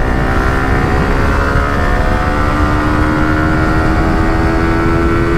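KTM motorcycle at full throttle in a drag race pulling hard through the gears, a loud, continuous engine roar with steady harmonic whine close by, no talk.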